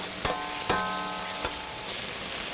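Beef stir-frying in a pan with onions gives a steady sizzle, broken by three sharp clanks of a utensil against the pan.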